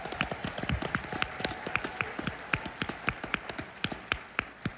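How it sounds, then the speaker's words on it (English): Scattered applause from an audience at the CPAC political conference, individual claps sounding distinctly rather than as a dense roar, moderately distant and tapering steadily. "Let's give them a round of applause."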